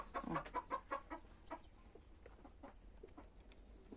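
Broody hens clucking in a run of close, rhythmic calls, loudest at the start and then softer and more scattered, with no one talking.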